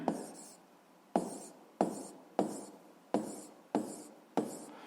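Writing out a physics solution on a pressure problem: seven sharp, evenly spaced strokes, each fading into a short scratchy tail, close and fairly quiet.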